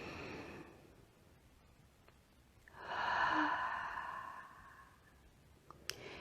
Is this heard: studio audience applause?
no